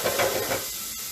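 Water is added to a simmering ketchup-based sauce in a pan and it steams and sizzles loudly at close range, a surging hiss that settles into a softer, steady sizzle.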